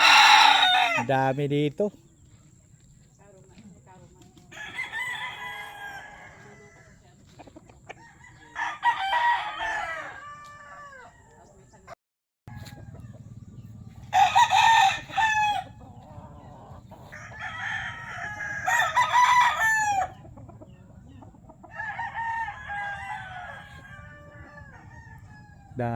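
Fighting cock roosters crow repeatedly at a farm in Pangasinan, several loud cock-a-doodle-doos at varying distances with clucking between them, while a person speaks briefly near the start.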